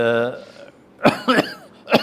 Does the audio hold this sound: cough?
yes